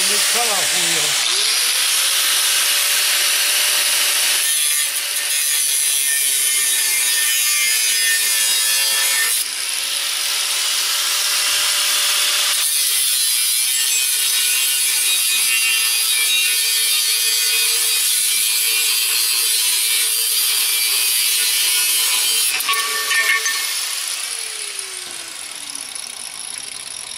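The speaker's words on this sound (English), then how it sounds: "Just about need a new cutoff wheel." A worn cutoff wheel grinds through metal on a lawn mower bed build, producing a harsh, loud, continuous screech in several long passes separated by short breaks, with a falling whine as the wheel spins down near the end.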